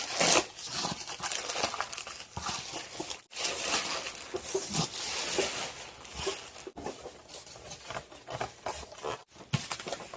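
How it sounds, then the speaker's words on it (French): A Temu parcel box being opened, with plastic packaging crinkling and tearing in close, busy bursts that carry on continuously and are broken by a few brief pauses. "on va ouvrir cette box aussi pour voir ce qui est à l'intérieur"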